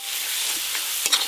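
Meat cooks hard in a pan with ground turmeric, fennel and dried chilli paste, giving a steady close hiss and sizzle with a couple of faint stirring scrapes at the end.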